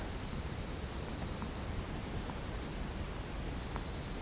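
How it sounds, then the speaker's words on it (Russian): Crickets chirp in a dense, continuous high-pitched chorus on a pine-forested mountain ridge above the sea near Gelendzhik, steady and loud throughout with no voices. "Сверчки сумасшедшие."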